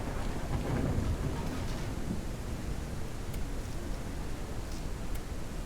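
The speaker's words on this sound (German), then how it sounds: "ich hoffe, das ist bei euch nicht zu laut, gerade mit dem Sturm" Steady heavy rain and rumbling thunder from a video game storm fill the space in a dense, continuous roar, loud and unbroken with no voices.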